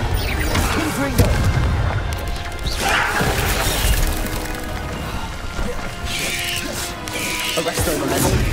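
Confringo spell explosions in Hogwarts Legacy come as loud, repeated crashing blasts and booms within a dense, busy combat soundscape, with a voice heard in the mix.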